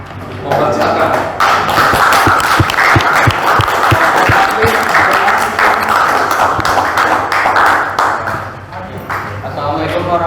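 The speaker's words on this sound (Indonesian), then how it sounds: "kelompok terakhir kita berikan tepuk tangan" A classroom group claps for a student team about to present, scattered hand claps and taps running under an almost continuous stream of talking voices for around ten seconds.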